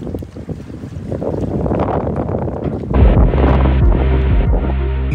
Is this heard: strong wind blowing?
yes